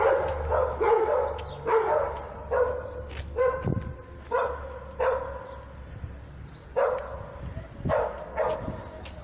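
Several dogs barking repeatedly at a moderate distance, irregular bursts of barks and yips with short gaps between them and faint background noise.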